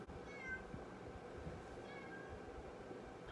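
A cat meows to be let inside, two faint, drawn-out calls spaced about a second and a half apart over low background noise.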